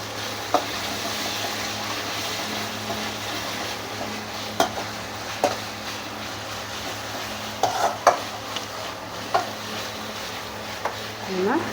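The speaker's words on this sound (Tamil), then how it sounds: "இஞ்சி பூண்டு போட்டு நல்லா மிக்ஸ் பண்ணணும்." Onion, ginger and garlic frying in a pan give a soft steady sizzle while a spoon stirs, scraping and knocking against the pan every few seconds over a constant low background hum.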